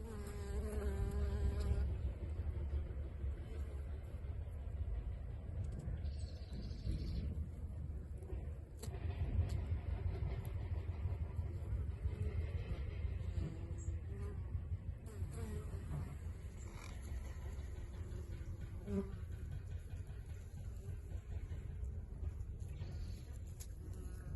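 A continuous swarm of hungry hornets drones loudly and close around a beehive in an apiary, the low buzzing steady throughout with individual insects whirring by.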